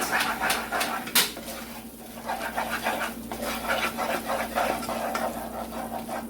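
Coconut fudge mixture with vanilla and butter being beaten in a bowl: rhythmic, repeated thick scraping strokes of a spoon, close and steady, with a sharp knock near the start.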